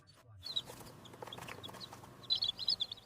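Newborn chicks in a brooding cage peep in quick, high, faint chirps, clustering in a burst near the end over low background noise.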